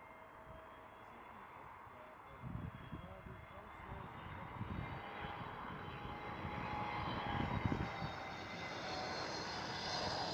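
A Transavia Airbus A321neo roars at Schiphol, its engine noise swelling gradually from a distant rumble to a broad, loud whine, with people talking quietly nearby.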